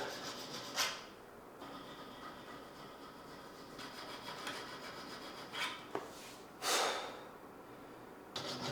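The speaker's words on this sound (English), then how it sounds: "The only upside to filing for hours and hours and hours is the insane forearm pump" A hand file rasps steadily back and forth along a Damascus steel bowie knife blade, a continuous gritty scraping close by with occasional sharper strokes.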